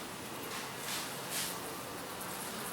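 Honeybees buzz around an open frame during a home inspection of a Baby Buster hive: a faint, steady, diffuse hum with a soft rustle, swelling slightly twice.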